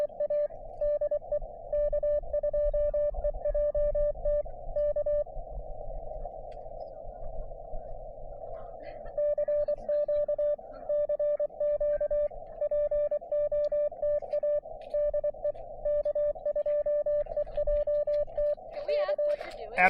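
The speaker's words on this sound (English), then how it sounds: "So I'm doing Morse code." Morse code keyed on a portable amateur radio during a Parks on the Air activation at a fire tower: a steady, clear sidetone tapping out rhythmic dots and dashes in bursts, with one longer continuous tone partway through.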